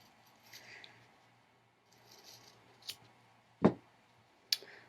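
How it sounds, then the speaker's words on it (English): Scissors cutting fabric into a rounded petal shape for a handmade flower, a few quiet snips and one louder close crunching cut, with soft rustling between in a quiet room. "Cut it around like a petal."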